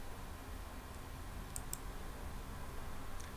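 Two quick, faint computer mouse clicks sound in close succession while working in SolidWorks, followed by one more soft click near the end, over a steady hiss of background noise.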